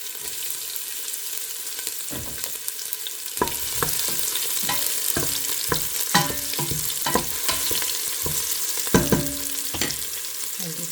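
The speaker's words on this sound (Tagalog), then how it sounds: "umpisahan na po natin ang paggisa" Garlic and onion sautéing in a pan give a continuous bright sizzle, broken by repeated knocking and scraping strokes of a spatula stirring against the pan.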